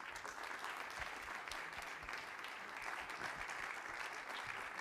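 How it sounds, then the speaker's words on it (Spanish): A gathering welcomes a guest speaker to a talk with steady, faint applause from an audience, continuous for several seconds with no talk over it. "Recibámoslo con un cariñoso aplauso"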